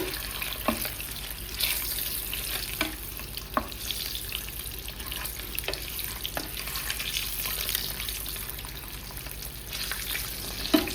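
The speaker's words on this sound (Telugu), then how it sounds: "4 ఎగ్స్ ఇవి ఫ్రై చేసుకోవాలి." Four eggs fry in a pan, with a soft, steady sizzle and scattered faint clicks and pops, fairly quiet and heard without talk.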